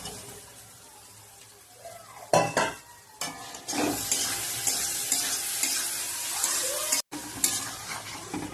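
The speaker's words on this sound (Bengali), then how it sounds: "কষা হয়ে গেছে মশলা এবার আলুটা দিয়ে দিচ্ছি" Potatoes tipped into a pan of spiced masala set off a sudden loud sizzle, then a steady, close, hissing fry with occasional stirring scrapes; a brief gap interrupts it near the end.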